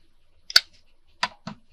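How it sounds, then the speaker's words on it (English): Scissors trimming paper for a craft tab make three quick, close snips with brief pauses between them. "No, I'm using my scissors a lot"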